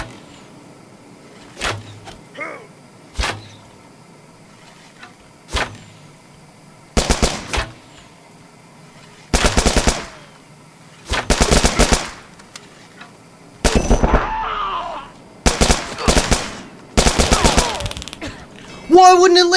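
Gunfire in the video game The Culling, arriving as sharp isolated shots early on and then growing into dense, loud bursts of rapid fire separated by short gaps of quiet.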